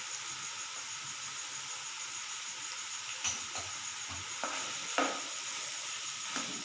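Minced meat with coriander, salt, turmeric and spices sizzles steadily in a pan, with a few soft scrapes from stirring.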